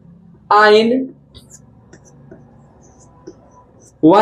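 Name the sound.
writing on a board during a chemistry lecture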